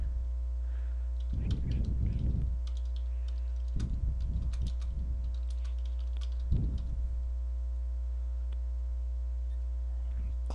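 Computer keyboard and mouse clicking in three short clusters of quick taps over a steady mains hum, close and fairly quiet with pauses between.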